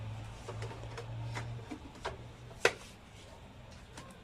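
An Epson printer runs a test print on bond paper after a paper jam repair. It gives off faint, uneven mechanical ticks and clicks over a low hum, with one sharper clack near the middle.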